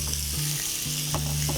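A beef striploin steak sizzles on a grill, giving a continuous, fairly close frying hiss with a steady low hum beneath and a few brief bursts.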